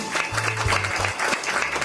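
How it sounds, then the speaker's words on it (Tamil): An audience at a Tamil community event honouring a woman social worker breaks into applause, continuous dense clapping heard up close, with low hum and brief tonal sounds beneath it. "நீங்கள் ஒரு உற்சாகமான கரகோஷம் கொடுத்திருக்க வேண்டும்"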